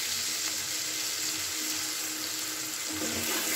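Ginger and green chili paste with salt sizzles steadily in hot oil in a pan, a continuous close frying hiss with faint stirring.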